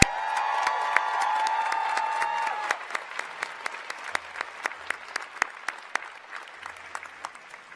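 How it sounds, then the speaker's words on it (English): An audience applauds two speakers at a ceremony, full clapping at first that thins out until only scattered single claps remain near the end. "Let's give them both another round of applause."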